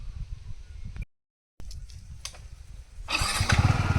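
A Yamaha MT-15 motorcycle engine runs at a low idle, cuts out briefly, then rises into a louder, rougher rev near the end, close by with no talk.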